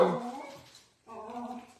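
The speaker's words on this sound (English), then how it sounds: "They can't go outside to bark at all the people because the gates must be open." Dogs shut inside a house bark and whimper in two short bursts separated by a brief pause, close and fairly loud with a harmonic, yelping tone.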